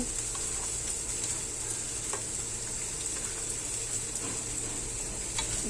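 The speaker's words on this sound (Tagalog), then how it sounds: "Hinalo lang natin sa pinakuloang sauce" Beefsteak slices being stirred through boiled sauce in a pan, giving a steady close sizzle with soft scraping and stirring movements all the way through, plus a few sharper clicks near the end.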